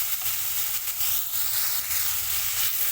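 A paste of ground green chilli, cumin and ginger, with a little turmeric, fries in hot oil with a close, even sizzle that holds steady throughout.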